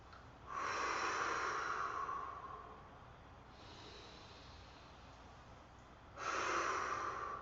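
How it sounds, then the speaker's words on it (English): Slow, deep breaths during seated and standing qi gong: a long, loud inhale, a quieter, softer stretch, then another strong breath near the microphone. "Nice deep breath coming high and wide"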